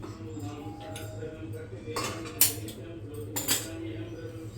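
A metal cooking pot is set down on a stove while cooking cucumber mutton curry, giving two faint, brief clinks over a steady low kitchen hum.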